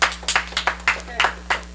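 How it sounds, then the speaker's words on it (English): Quick, evenly spaced claps, about eight in under two seconds, over a low steady hum. "Let's have a big round of applause for the little kitty cat."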